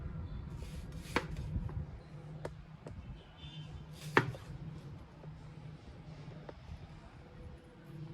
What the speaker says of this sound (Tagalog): Iwain natin yung kamatis, tapos tanggalin natin yung buto ng kamatis